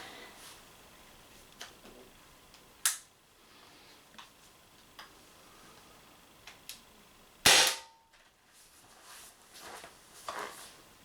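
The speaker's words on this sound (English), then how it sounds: "First 3 shots will be with the MCS Kinetics." Umarex Impax P68 paintball pistol firing two loud sharp shots several seconds apart, the second louder, with faint clicks and ticks between them.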